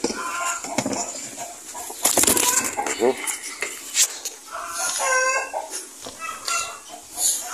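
Rooster crowing amid a busy farmyard, with clucking chickens and other fowl calling around it at moderate distance.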